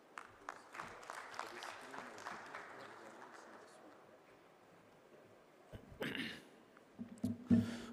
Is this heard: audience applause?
yes